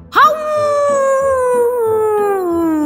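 A human voice imitates a wolf howl during a French children's story: one long, loud, close howl that rises sharply, then slowly falls and fades, over soft, rhythmic low backing tones.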